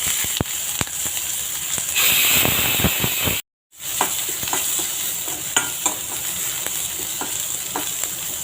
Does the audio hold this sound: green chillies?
yes